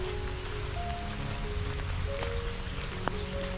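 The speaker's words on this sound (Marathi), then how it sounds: "थोडा थोडा पाऊस पडतो" Steady, soft patter of light monsoon rain falling in hilly woodland, continuous and even, with no voices.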